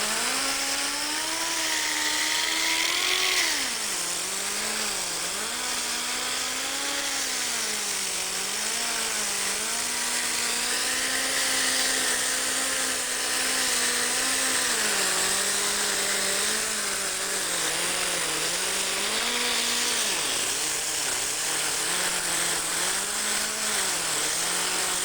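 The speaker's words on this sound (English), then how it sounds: "Start sanding away" A continuous whining power sander grinds rust off forklift metal, running steadily for the whole stretch, its pitch dipping and rising as pressure changes, loud and close.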